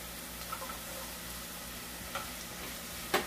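Onion and chili sizzling and frying in a pan for stewed chicken gizzards, a steady soft crackle with a few light utensil taps against the pan, the last one sharper.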